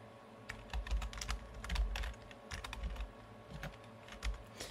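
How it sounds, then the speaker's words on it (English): Keys clacking on a computer keyboard while a mini PC router is set up, uneven clusters of close, clicky keystrokes over a low background hum, with no talking. "So you're going to type in root"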